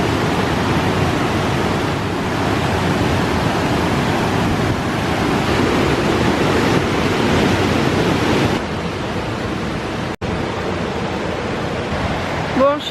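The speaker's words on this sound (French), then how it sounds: "le bruit de la rivière, c'est magique" Steady broadband rush of a river near Ithaca, New York, continuous and fairly loud, a constant flowing-water roar with no voices.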